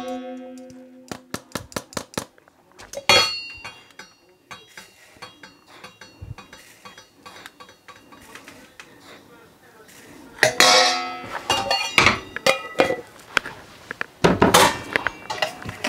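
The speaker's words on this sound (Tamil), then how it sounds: "சீனியையும் கருவாவையும் நல்லா மிக்ஸ் பண்ணி வச்சுக்கொள்ளணும்" A spoon scrapes and clinks inside a bowl while sugar and cinnamon are mixed for cinnamon twisted buns, with irregular taps building into busier, louder clatter toward the end.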